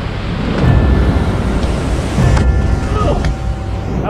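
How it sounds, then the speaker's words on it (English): A waterfall near a cliff jumping spot rushes as a steady broad roar with gusty wind buffeting the microphone, loud and close throughout, with no talking. "And there's the waterfall."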